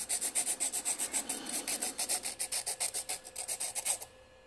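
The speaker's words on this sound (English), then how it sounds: "this is a sandpaper stick" A sandpaper stick rasps against a graphite pencil tip in quick, regular back-and-forth strokes, about twenty close scratchy passes that stop abruptly, with no talking.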